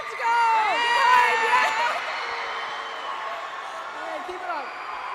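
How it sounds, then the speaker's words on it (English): Crowd noise from an audience at a Rocket League esports tournament in a high school fieldhouse, a steady mass of cheering and whooping that swells early then holds at a lively level with voices and a shout mixed in. "can you get loud, please? I need some cheering"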